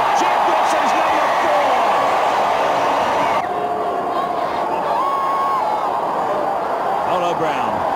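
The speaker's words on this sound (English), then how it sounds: "This crowd is really enchanted by the All Blacks performance tonight. There's a wave which has been spinning around and around." A rugby stadium crowd roars and cheers while a wave circles the stands during an All Blacks match, a dense, loud, continuous wall of noise with a commentator talking over it.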